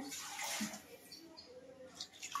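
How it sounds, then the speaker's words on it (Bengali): Water poured into a pot of chicken curry cooked with sour yogurt, a soft close splashing rush that fades into a faint trickle and drips. "আর একটু জল দিয়ে দিলাম।"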